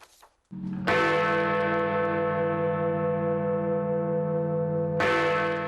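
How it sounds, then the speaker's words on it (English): Two deep, resonant strikes of Big Ben, the great bell in London's Elizabeth Tower, each ringing out with a long, humming decay, the second strike arriving after several seconds. "Britain's most famous chimes, broadcast to the country live twice a day, every day"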